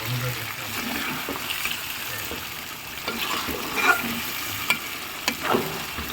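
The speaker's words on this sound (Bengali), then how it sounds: "মশলা কষিয়ে নিয়ে মাংস আর আলু কষাই নিয়ে এই যে এইভাবে রাখছি" Beef and potatoes fry with spices in a pan, a soft steady sizzle with occasional stirring scrapes and light knocks, heard fairly quietly up close.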